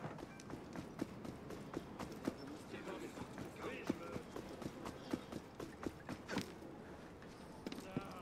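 Horse hooves clip-clop in a steady, fairly close rhythm through the Assassin's Creed Unity game, with creaks, game ambience and someone talking over the top.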